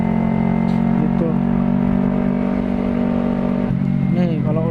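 A Yamaha R25 motorcycle engine drones steadily at speed, loud and close, with a shift in pitch partway through as the revs change, while a voice talks over it.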